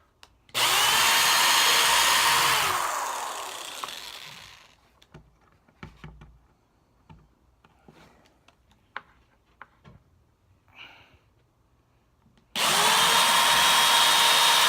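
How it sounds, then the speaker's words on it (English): A cordless power drill bores pilot holes into wood for bookshelves, with two sustained loud whirring bursts at the start and end and scattered handling clicks and taps between them. "the reason I'm drilling pilot holes, because if you don't do that, you run the risk of splitting your wood when you're drilling with screws"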